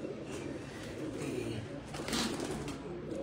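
Pigeons coo softly nearby in a continuous low, rolling murmur, with a faint brighter rustle partway through and no clear speech.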